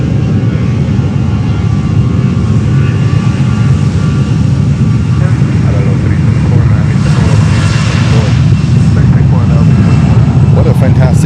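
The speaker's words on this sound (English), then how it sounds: "And there goes Rouge, Air Canada Rouge." An Air Canada Rouge A319 airliner rolls past at Fort Lauderdale-Hollywood International Airport, its jet engines giving a loud, steady roar that fills the whole stretch without a break.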